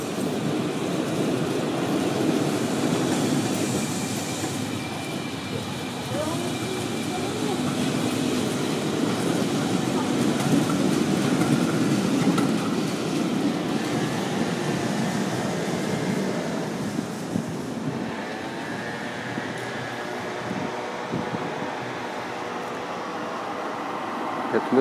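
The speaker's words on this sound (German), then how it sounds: "Das ist die Linie 2, die nach Sieker fährt." Bielefeld Stadtbahn tram on line 2 toward Sieker rolls past with a steady low rumble and wheel noise that stays loud throughout, a faint voice underneath.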